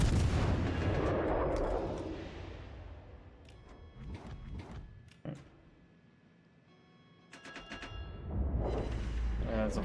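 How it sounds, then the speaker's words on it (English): Heavy naval gunfire booms in a World of Warships Legends sea battle while shooting at the Bismarck, with loud broadband blasts at the start and end, a quieter stretch in the middle, and sharp cracks scattered throughout. "Now I gotta shoot this Bismarck before it disappears."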